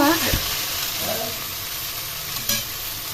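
Red spinach (lal shak) sizzles loudly in hot oil while being stirred in a pan, a steady frying hiss broken by a few scraping stirs, close and with no one talking.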